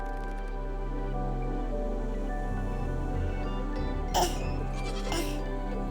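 A goat in the video game Goodnight Universe bleats over a steady bed of droning music, with a couple of brief brighter bursts near the end.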